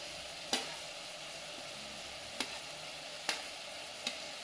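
Potatoes and grated carrot frying in a pan for vegetable pulao, a steady soft sizzle broken by four sharp clinks of a spoon against the pan, no talk.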